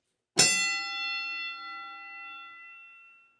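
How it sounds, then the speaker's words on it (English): One clear strike of a lever-operated Kenny Bell rings out close and bright, its metallic tone sustaining and slowly fading over about three seconds with no other sound. "That sucker actually rings, the Kenny Bell."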